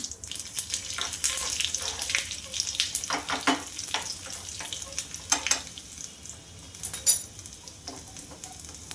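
Cumin and garlic crackling in hot oil in a pan, irregular soft sizzling pops and stirring scrapes, fairly quiet and close, with no talk.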